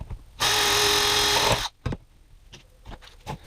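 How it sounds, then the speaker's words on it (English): A loud, steady high-pitched whir of a small drill bit boring through PVC pipe for about a second, followed by a few faint clicks and handling knocks. "I'm drilling through the pipes on the inside for a screw."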